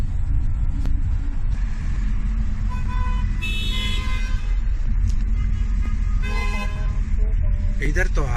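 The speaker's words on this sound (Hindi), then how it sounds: "इधर तो हारन बहुत है," Car horns honk in stalled London traffic in Twickenham: two distinct toots, one mid-clip and one later, ring out over a constant low roar of engines and road noise.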